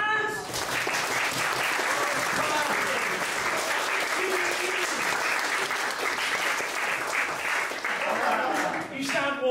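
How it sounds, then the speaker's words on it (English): Loud, sustained applause from a large stand-up comedy audience in Canterbury clapping together, with cheering and voices mixed in, fading slightly toward the end. "Let me hear you clap your hands."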